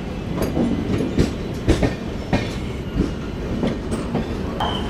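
Sampark Kranti Link Express on the Ramnagar–Delhi route rolling past, with a steady low rumble of wheels and periodic rhythmic clacks over rail joints, loud and close throughout.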